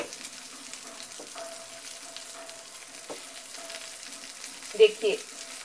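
Chettinad-style chicken pieces fry gently on a low flame in a pan, giving a soft, steady sizzle with a couple of brief louder pops near the end and no talk.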